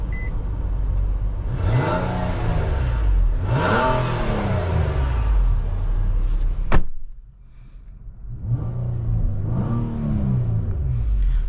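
2022 Nissan Maxima Platinum on a test drive, its engine revving up in two strong surges, a sharp click, a brief quieter lull, then another acceleration heard from inside the cabin.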